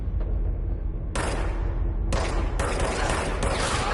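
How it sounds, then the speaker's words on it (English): Gunfire from shooting enemies in the video game Control: loud, dense bursts of weapon fire that cut in and out abruptly over a deep rumbling bed, close and filling the scene. "now I can get headshots on them and kill them"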